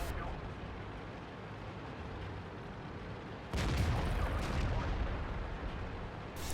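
An artillery shell strikes in the World of Tanks video game as a sudden loud blast that cuts over a steady rumbling background and then rolls on as a heavier roar.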